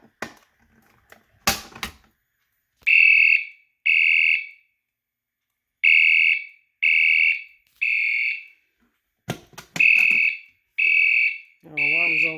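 Fire alarm system under test with a System Sensor 2312/24B smoke detector and a Siemens UMCI/W module: loud repeating electronic horn blasts in an even on-off rhythm after a few sharp clicks, ending with a warbling tone.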